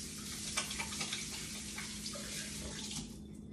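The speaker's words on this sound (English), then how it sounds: "All right, let me wash my hands." A kitchen tap runs in a steady hiss of water while hands are washed, faint and continuous, with light splashing and a low hum beneath, tapering off near the end.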